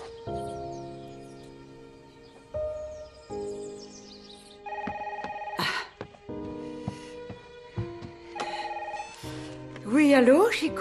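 A telephone rings in a French family home, with repeated electronic ringing tones and chirps mixed under dialogue between people talking.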